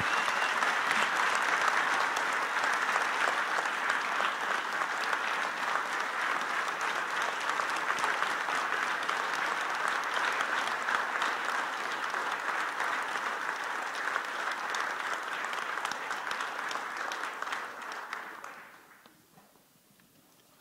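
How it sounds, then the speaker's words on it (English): Audience at an aviation speaker event applauding a 98-year-old guest, a full steady round of clapping for about eighteen seconds that fades out into quiet. "Can we all give Don a round of applause?"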